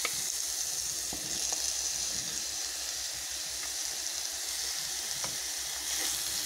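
Potatoes frying in a pan for an avarakkai poriyal, a Tamil broad-bean and potato stir-fry, sizzle in a constant hiss with occasional soft clicks and stirring scrapes, steady and close throughout.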